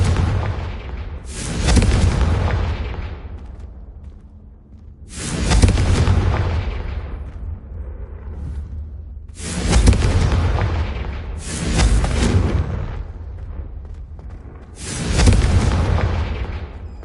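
Five loud blasting-spell explosions from the Confringo charm in Hogwarts Legacy, each a heavy boom with a rumbling tail, spaced a few seconds apart with no voices.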